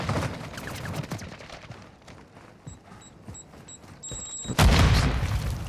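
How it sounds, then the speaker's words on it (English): Molotov cocktails thrown in Call of Duty Modern Warfare II, with scattered thuds and muffled bursts, a few short electronic beeps, then a sudden heavy fiery boom near the end that keeps roaring loudly. "Throwing Molotovs!"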